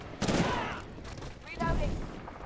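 Gunfire in the Titanfall 2 shooter game, two loud bursts of shots about a second apart, with radio-style voices and game sounds mixed in.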